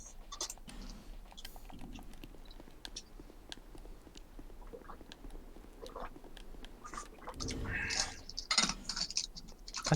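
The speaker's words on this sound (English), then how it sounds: "My typing a novel." Keys clatter in a steady, fairly quiet run of typing on a computer keyboard during a Dark Souls game stream, growing busier toward the end.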